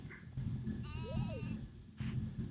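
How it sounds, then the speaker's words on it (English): A sheep in Harvest Moon 64 gives a single clear synthetic bleat with a wavering rise and fall, over soft background game music. "There it is. Look at my sheep."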